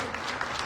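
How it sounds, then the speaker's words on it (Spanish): Applause from a church congregation during worship, a brief burst of clapping filling the space throughout. "Da un aplauso"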